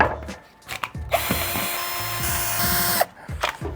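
Tools click and clatter up close while a Dnipro-M rotary hammer is disassembled, with a short burst of a power tool whirring in the middle before the handling noises return.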